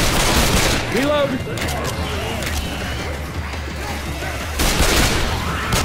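Gunfire in the Left 4 Dead 2 co-op shooter, a dense and continuous spray of shots with crashes and booms throughout, loud and close, with players shouting over the chaos.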